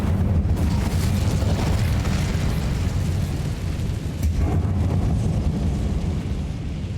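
An Incendio fire spell is cast in Hogwarts Legacy, a loud rumbling whoosh and burst of flame that sustains with a sharper crackle partway through.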